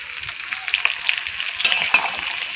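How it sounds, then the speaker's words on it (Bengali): Bhetki fish sizzles as it fries with fish masala, a close, bright crackle with a few sharper pops and spoon-stirring scrapes over a couple of seconds, no voices. "দেখো কষানোর সময় মিন মশলা দিয়ে কষানো হচ্ছে"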